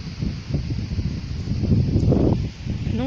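Strong gusts of wind buffet the microphone outdoors, a rough low rumbling roar that swells and eases over a few seconds.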